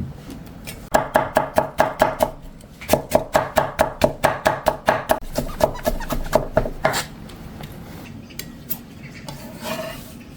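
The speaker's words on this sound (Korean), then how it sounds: "오이는 어슷썰기 한 다음 도톰하게 채 썰어요" A knife julienning cucumber on a cutting board makes quick, rhythmic chops close by, in two fast runs of roughly a dozen crisp strikes each, followed by a few scattered cuts.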